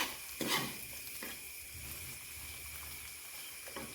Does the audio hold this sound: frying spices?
yes